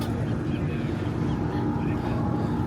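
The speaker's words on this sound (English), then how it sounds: "Ferry boat's turning around." Steady low engine drone of a ferry boat turning around, with broadband wash noise, continuous and even, no talking.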